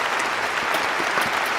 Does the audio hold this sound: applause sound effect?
yes